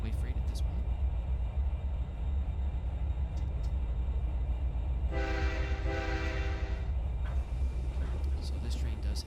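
A freight train in the Trainz 2019 railway simulator runs with a steady low engine rumble, and a loud two-second horn blast sounds midway through. Someone talks over the rumble.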